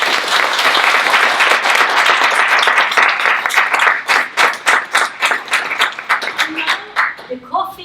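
An audience at a mentoring workshop claps for mentors and mentees. The applause is dense at first, then thins into distinct individual claps as it tapers off, with voices emerging at the end.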